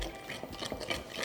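A spoon stirs a lamb shoulder mixture in a pan, giving a short burst of soft, close scraping and shuffling, quiet and without speech.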